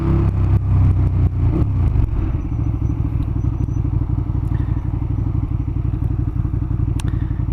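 A one-seat motorcycle engine putters steadily at close range, with some clattering thumps at the start as it gets moving, near the train station in Uppsala.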